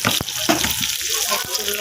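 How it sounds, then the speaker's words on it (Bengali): Sliced eggplant frying in hot oil with turmeric in a pan, a steady close sizzle with a few sharp crackles and spatula clanks spread through. "এই যে কেটে রাখা বেগুনটা আমি এখন ভেজে নেব।"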